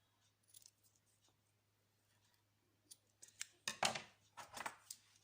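Sharp scissor snips trimming excess macrame cord beside a bracelet button, a few quiet cuts early, then a louder cluster of crisp clicks and snips toward the end over low hum.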